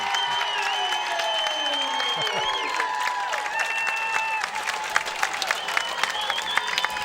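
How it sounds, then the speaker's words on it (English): Home crowd at a high school football game, Jackson County Central versus St. Louis Park, cheering and applauding after a touchdown; a broad roar of clapping with whistle-like tones, over a public-address voice. "Well, the fans now with something to cheer about."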